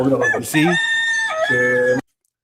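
A rooster crows loudly and close by: one full, drawn-out call that rises and holds before stopping abruptly, with no other sounds around it.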